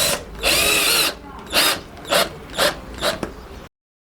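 A cordless power drill drives screws through metal leg plates into a round DIY coffee table, with one long whirring run followed by four shorter ratcheting bursts, close and fairly loud.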